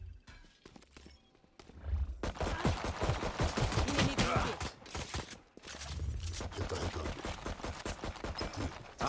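Gunfire in the video game Valorant: dense, sustained bursts of rapid shots in two long volleys with a brief lull between, loud and close.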